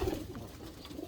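Racing pigeon cooing softly at close range, a low steady murmuring coo with a couple of gentle swells over about a second, no voices.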